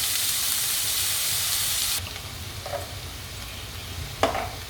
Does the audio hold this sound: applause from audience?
no